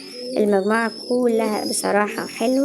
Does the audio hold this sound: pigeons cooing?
yes